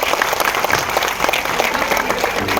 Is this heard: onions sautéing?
no